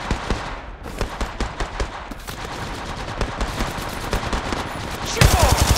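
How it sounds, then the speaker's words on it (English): Gunfire in the video game Apex Legends, rapid automatic bursts crackling almost continuously in a loud, close barrage, with a heavier burst of shots at the end. "Firing. I'm spotted. Taking fire."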